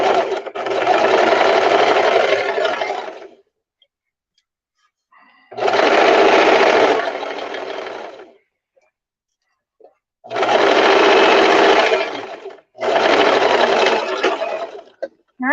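A sewing machine stitches a skirt seam in four loud, steady bursts of whirring, each lasting a few seconds with brief pauses between runs.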